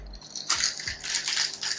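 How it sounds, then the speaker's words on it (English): A cocktail shaker full of ice and a margarita with triple sec and lime juice is shaken in quick bursts, producing loud, close rattling and clattering of ice against the tin with no talking. "And we give that a nice shake."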